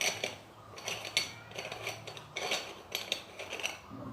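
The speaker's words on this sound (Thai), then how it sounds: "ตัวโมกาพอตนะครับผม เนี่ยหม้อต้ม" Metal parts of a moka pot coffee maker clink and scrape as they are handled and taken apart, a busy run of light, bright knocks and rattles up close with no talking.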